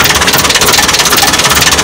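A new 2020 HH Dabung tractor engine with a reported leak fault idles loudly up close, a heavy rhythmic chugging with a steady knock and no speech.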